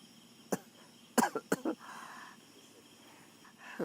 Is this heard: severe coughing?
yes